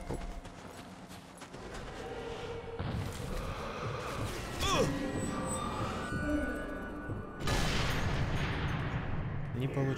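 Gunfire in the video game Sniper Elite 3, with sharp shots and blasts over a dense, busy battle soundscape and a loud burst late on; no speech.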